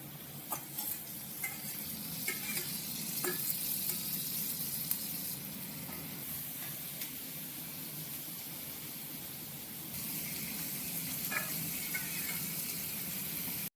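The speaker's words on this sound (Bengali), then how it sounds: "গাজর একটু ভাজা হয়ে গেছে, এবার দিয়ে দেওয়া হচ্ছে পেঁয়াজ আর লঙ্কা" Onion, chili and carrot sizzle and fry in a pan while being stirred, a steady close crackling hiss throughout with occasional scraping stirs and a slight rise in intensity toward the end.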